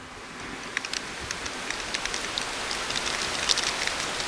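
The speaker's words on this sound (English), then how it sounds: "Here comes the rain. We knew it was coming. And there it is." Steady rain falls outdoors on a trip heading north toward Paris, a dense even hiss of drops at moderate level with scattered closer patters, no voices.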